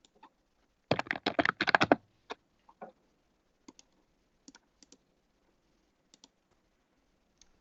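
Keys clatter on a computer keyboard in a quick burst of typing, followed by scattered single clicks and taps spaced out across the remaining seconds, close by in a quiet room.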